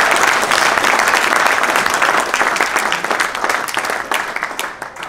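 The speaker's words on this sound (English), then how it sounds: "Let's give a massive round of applause." A live stage magic show audience bursts into loud, sustained applause that holds strong and then gradually thins out toward the end, with a little crowd noise underneath.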